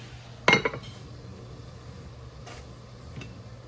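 A cooking pot gets covered with its lid, giving one sharp metallic clank with a short rattle of settling, followed by faint kitchen hum and a couple of soft knocks.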